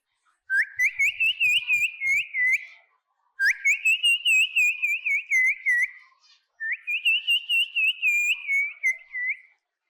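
Three loud, close whistled phrases mimic a pigeon's peculiar call, each a rising note followed by a wavering, warbling trill lasting about two to three seconds, separated by short silences.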